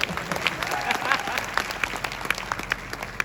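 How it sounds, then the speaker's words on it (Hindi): An audience at a seminar breaks into hearty applause, a dense, steady round of many hands clapping that carries on throughout, with some voices mixed in. "मेरे लिए भी एक बार जोरदार तालियां हो जाए"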